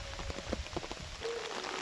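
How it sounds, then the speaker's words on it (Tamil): Rain falls steadily over a farm after pouring all night. A soft, continuous hiss carries scattered patters of drops, quiet and close, with no talking. "இப்படி மழை பெஞ்சிட்ருக்கு பாருங்கள் விடிய விடிய மழை பெஞ்சிட்ருக்கு"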